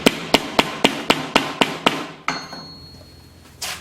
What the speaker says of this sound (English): Lined up, and then just take your little hammer.